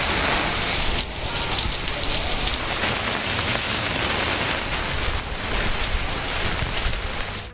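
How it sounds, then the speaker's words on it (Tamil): Heavy rain pouring steadily on surfaces in Rameswaram, a loud, dense and continuous downpour with faint gusts of wind and no voices. "ராமேஸ்வரம் உள்ளிட்ட பகுதிகளிலும் பரவலாக கனமழை பெய்தது."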